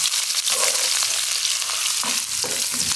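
Shallots sizzling in hot oil in a pan on a home stove, a steady bright crackling hiss with occasional stirring scrapes, close and continuous, with no talking.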